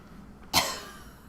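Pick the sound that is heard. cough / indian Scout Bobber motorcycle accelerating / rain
cough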